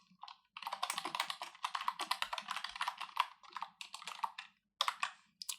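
Rapid, steady typing of text on a computer keyboard, close by, with a dense run of keystrokes broken by brief pauses and a few isolated taps at the end.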